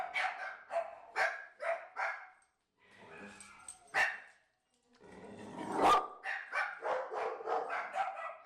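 A dog barks in quick bursts of several sharp woofs, pauses, then gives a growly yelp before another run of rhythmic barks, heard as playback from a recording.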